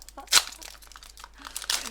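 A Pokémon card booster pack wrapper is torn open close up, giving sharp crinkling foil crackles in two loud bursts with quieter rustling between.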